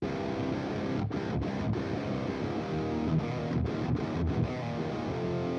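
Distorted electric metal guitar through an amp with bass turned fully up and treble fully down, a muddy, boomy, dark tone playing a continuous riff with brief gaps, loud and close, no talking.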